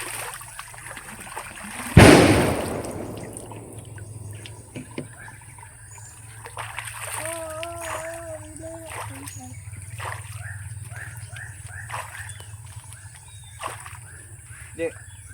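Well water splashing as feet are washed at a blue well, a sharp loud splash near the start followed by softer sloshing and trickling under a speaking voice.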